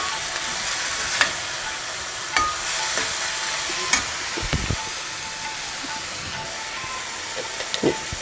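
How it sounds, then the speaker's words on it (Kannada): Fenugreek leaves fry in hot oil for a Karnataka-style methi rice dish, giving a continuous close hiss and sizzle with a few sharp knocks and scrapes of a stirring spoon. "ಇದು ಮೆಂತ್ಯ ಸೊಪ್ಪು ಎಣ್ಣೆಯಲ್ಲಿ ಚೆನ್ನಾಗಿ ಫ್ರೈ ಆಗಬೇಕು."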